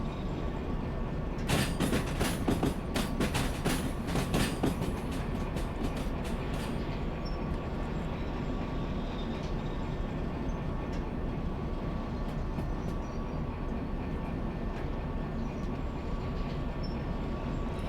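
A train rolls steadily in the Derail Valley railway simulator, a continuous loud rumble with a steady hum and a cluster of rhythmic wheel clacks early on, without any voices.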